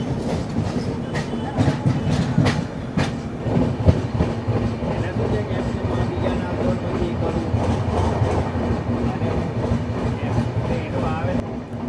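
The Mumbai-Ahmedabad Double-Decker Express, hauled by a WP7 locomotive, rolls into Valsad railway station with a loud continuous rumble, steady wheel clatter and rhythmic clickety-clack over rail joints.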